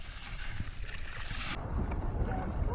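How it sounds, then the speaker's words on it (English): Soft splashing and rippling of a paddle in cold water from a homemade boat, with wind rumbling across the microphone throughout. "we're going to paddle our way around this pole"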